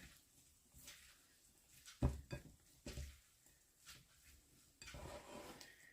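Beet salad being stirred in a bowl, soft scraping and a few sharp clinks of utensil against the dish, quiet and close with pauses between strokes.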